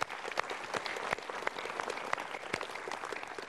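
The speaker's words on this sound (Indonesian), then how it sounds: "Kita berikan tepuk tangan dulu" A studio audience at a Mario Teguh motivational talk show gives a round of applause, a continuous, fairly distant spread of many hands clapping with a few sharper claps standing out.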